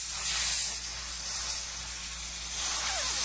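Compressed air hisses steadily as it blows dust and grime out of the checkering on a gun stock, loud and continuous at close range, with no speech.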